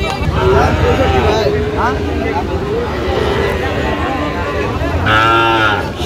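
Sahiwal bull calves at a Dhaka cattle market give several loud, drawn-out moos, one after another, over a steady crowd murmur and market hubbub, with people talking throughout.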